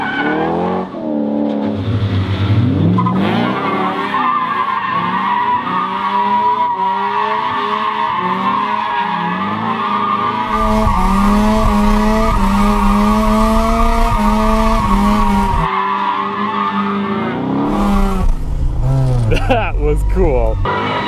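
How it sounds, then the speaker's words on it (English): A Mazda RX-7 street drifting in a parking lot, its engine roaring continuously with tires squealing and the underside scraping the ground during transitions, loud and close throughout. "You can just like hear Tyler scraping when you transition."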